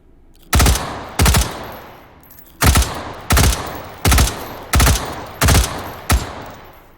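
Eight loud, sharp M4 rifle shots from the video game H3VR, fired singly at uneven intervals with short echoing tails, some paired close together, no talking.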